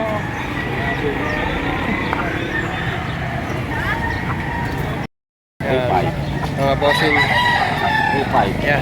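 Roosters crow at a rainy outdoor chicken market in Lipa, Batangas, repeated calls ringing over crowd chatter, with a brief dropout midway and people haggling nearby.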